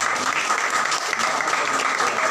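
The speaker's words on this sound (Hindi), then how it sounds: "इसलिए परमेश्वर के लिए हम जोरदार ताली बजाएंगे।" A church congregation claps loudly and steadily for God during a Sunday worship service, a dense, continuous wash of applause filling the room with no voices on top.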